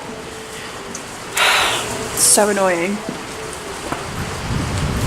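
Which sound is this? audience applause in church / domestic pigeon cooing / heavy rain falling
heavy rain falling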